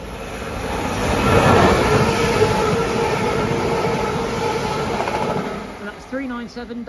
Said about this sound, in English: Passing through now is a Pennine Express service from Oxenholme Lake District to Manchester Airport.